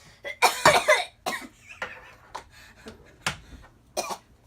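A series of harsh coughs, a cluster of strong bursts early on, then several scattered single coughs, close by with quiet breathing between.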